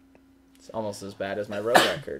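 A short, sharp sneeze bursts out near the end, right after someone speaks over a baseball game commentary background.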